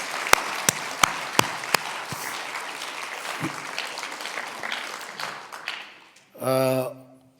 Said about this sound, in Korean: 우리 큰 박수 한번 서로 간에 하십시다